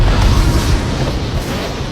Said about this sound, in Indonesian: bahkan semua tabung di sana energinya penuh, sampai-sampai bikin pintunya meledak